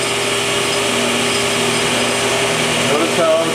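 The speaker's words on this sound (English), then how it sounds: "What it's doing is it's engraving lettering." 5-axis CNC mill engraving lettering, a steady high-pitched spindle and motor whine with a constant droning hum, loud and continuous.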